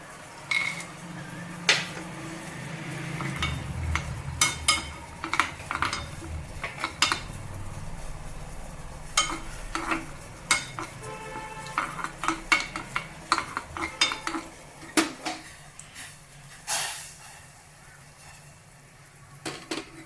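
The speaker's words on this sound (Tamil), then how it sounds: "வச்சுருக்கேன் முந்திரியை வறுத்துக்கேன்" Cashews fry in a pan for jackfruit payasam, with a soft sizzle under frequent close scrapes and clinks of a spoon stirring against the metal.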